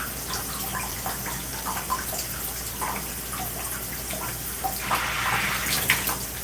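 Tap water runs steadily from a faucet into a sink or basin, a continuous close splashing hiss with small drips and surges, louder toward the end, with no talking.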